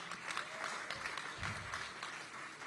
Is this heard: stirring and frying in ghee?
no